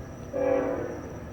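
A passing train sounds a short horn blast, loud and fairly near, over a steady rumble of rail noise, with no talking.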